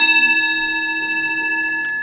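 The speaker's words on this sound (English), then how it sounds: "I just want to introduce to you the bell." A facilitator's bell at a forum is struck once, ringing out loud and clear with a bright sustained tone that slowly decays over two seconds, no talk over it.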